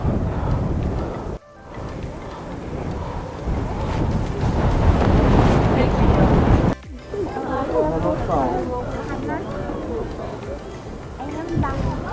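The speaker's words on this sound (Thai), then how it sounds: "ลมแรงมากครับคุณผู้ชมครับ" Strong wind buffets the microphone in loud, continuous rumbling gusts at a man-made cave site in Georgia, with someone talking over it.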